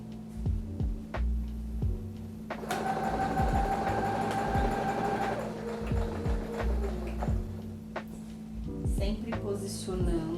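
Sewing machine stitching fabric pieces for children's items, running in fast bursts of mechanical chatter with short pauses between runs, close and steady, under a voice talking throughout.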